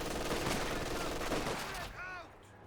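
Gunfire suppressing conscripts in the video game Company of Heroes 2, rapid dense bursts of small-arms fire under a busy battle mix, fading into softer explosions and a whistling sweep at the end.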